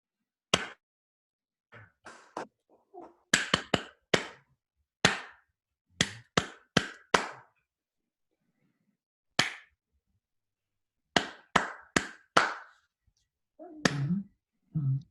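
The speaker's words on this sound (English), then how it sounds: "I would like you to clap the second bar rhythm here for yourself." Single sharp hand claps tapping out a bar rhythm during an online music lesson, isolated close claps in short groups separated by silence, with a brief murmur near the end.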